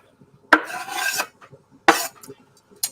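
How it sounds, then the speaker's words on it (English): A chopping board is scrubbed clean in two short, harsh rasping bursts, close by, with light kitchen knocks around them. "And just to give my chopping board a bit of clean."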